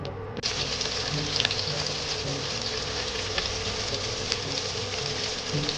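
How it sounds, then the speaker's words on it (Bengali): Boiled potatoes frying in hot oil in a pan, a steady dense sizzle and crackle running continuously and fairly loud throughout, with no talking. "এবার আমি তেল গরম করে নিচ্ছি আলুটা ফ্রাই করে নেওয়ার জন্য"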